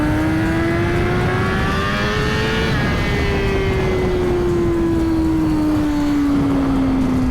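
A Suzuki GSX-R1000 superbike accelerates hard on a highway, its engine note climbing loudly with a brief shift into the next gear before rising again, with constant wind roar.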